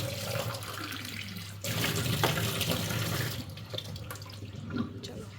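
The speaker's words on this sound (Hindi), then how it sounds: "थोड़ा पानी चल रहा है जेट, तो इसलिए थोड़ा ताज़ा पानी पी लेते हैं।" Water runs from a tap in a steady, splashing stream, with some faint background noise and a shift in the flow about a third of the way in.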